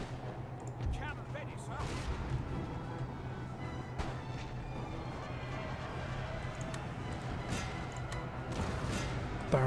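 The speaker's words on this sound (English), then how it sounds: "Artillery into pounding these infantry units here. Canister shot the lifeguard and barrage." Artillery barrage in the Napoleon: Total War video game, canister shot pounding infantry units, a dense, continuous wash of distant cannon booms and battle rumble that carries on steadily throughout.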